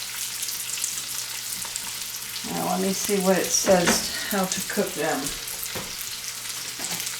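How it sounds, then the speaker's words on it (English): Sliced onions sizzle in a skillet of melted butter and bacon grease over lowered heat, giving a steady, close crackling hiss that runs through the whole stretch, with a person talking over it midway. "You see those onions sizzling up there."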